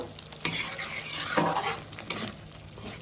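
Ginger-garlic paste is stirred in a frying pan for a fish curry, a spoon scraping through it with a steady hiss of sizzling oil and short metallic clinks against the pan, close and continuous.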